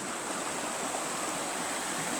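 River water rushes past stones at a bend, a steady, dense broadband hiss of flowing water with no pauses or voices.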